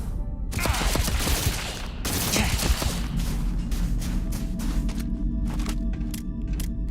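Sustained bursts of rapid gunfire from a Starfield combat fight, loud and continuous with dense overlapping shots and a few sharper cracks toward the end, with no voices.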